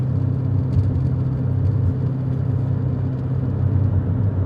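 A car drives through a wooded town after a tropical storm, giving a steady low rumble of engine and road noise from inside the cabin with no talk.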